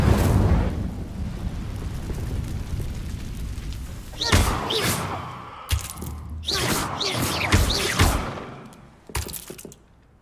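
An Incendio fire spell is cast in Hogwarts Legacy, producing a string of bursting, crackling whooshes and thuds over a rumbling background, with several sharp blasts spaced through the second half.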